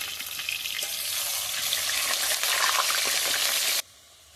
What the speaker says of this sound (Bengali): আমি এবার ভালোভাবে এই আলুগুলোকে ভেজে নেবো